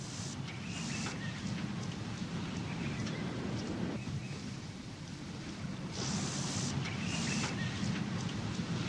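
Steady rain pours down during a night thunderstorm on the savanna, a dense hiss of drops with low thunder rumbling beneath and brief brighter bursts of rain noise.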